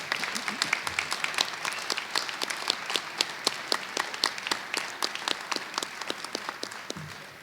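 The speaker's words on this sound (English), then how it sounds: "We have a round of applause for the class of 2024" Applause from a crowd at a college academic honors convocation for the graduating class, steady dense clapping with sharp individual claps standing out near the microphone, sustained throughout.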